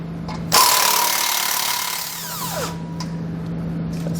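A power tool runs loud and steady on the 15mm tow hook bolts, starting abruptly and then winding down to a fading whine over a constant low hum.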